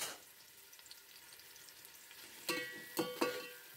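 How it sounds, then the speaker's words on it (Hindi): Onions frying in oil for pulao, a quiet steady sizzle that runs throughout, with a few louder stirring scrapes toward the end. "पहले हमने इस प्याज को अच्छा सा फ्राई करना है"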